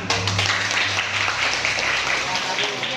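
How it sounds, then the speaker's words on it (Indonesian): Students clapping together in a classroom, a steady, dense round of applause filling the room at moderate volume with a low hum underneath. "Tepuk tangan, Nak."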